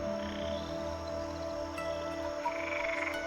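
Frogs croak continuously in the swamp setting of the video game GreedFall, a steady layered chorus of moderate loudness with ambient hum beneath and no voices.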